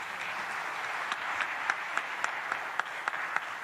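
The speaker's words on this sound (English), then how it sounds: "A round of applause to Her Excellency Dr. Samia Suluhu Hassan, the President of the United Republic of Tanzania, for those great words." Audience applause for the President of the United Republic of Tanzania at the Africa50 general meeting, a steady wash of many hands clapping with sharper individual claps standing out, continuous and moderately distant, with no talk over it.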